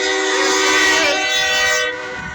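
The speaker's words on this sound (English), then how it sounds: "Got a train coming northbound. CSX." A northbound CSX freight train passes in Dayton, Ohio, its horn blaring loud and sustained with rich harmonic tones for about two seconds over the rumble of rolling cars.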